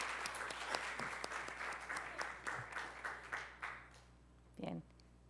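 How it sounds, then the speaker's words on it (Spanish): Audience applause after a talk on personal branding, a steady mix of individual claps that gradually thins and dies away, with a brief voice near the end. "un aplauso para ustedes también por esta escucha en agradecimiento"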